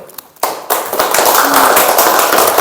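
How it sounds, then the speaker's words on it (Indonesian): An audience claps for a student group that has just presented its discussion results in a classroom teaching session, with dense, steady applause starting after a brief quiet moment and continuing to the end. "Aplaus dulu untuk teman-teman kita yang telah tampil"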